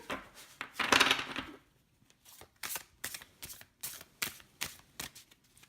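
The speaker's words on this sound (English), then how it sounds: "Do love me a good shuffle." A tarot card deck is shuffled by hand: a longer riffling burst at first, then a series of short, crisp card slaps and flicks in an uneven rhythm, close and fairly quiet.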